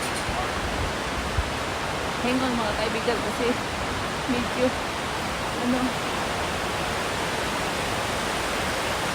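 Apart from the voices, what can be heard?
Skogafoss waterfall from melting snow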